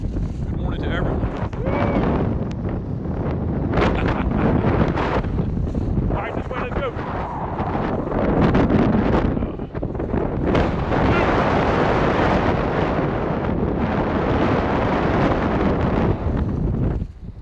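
Strong wind with gusts up to 40 knots buffets the microphone at Ocean City, Maryland, in heavy, roaring gusts that rise and fall, loud and close for the whole stretch.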